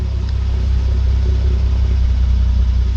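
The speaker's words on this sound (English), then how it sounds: "Little cold start there. Rev it." A 2014 Hyundai Genesis Coupe with a 3.8 liter engine runs just after a cold start, a loud, steady low rumble close by with little change in pitch.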